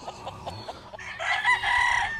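Brown Red gamecock roosters give clucks and short calls, then a loud, close crow breaks out and fills the rest of the moment.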